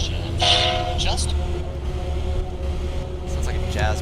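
Recorded train sounds play like a jazz band imitating a train: short chords of horn and whistle tones sound near the start and again at the end over a steady low rumble.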